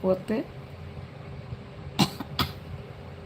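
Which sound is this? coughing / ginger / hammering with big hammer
coughing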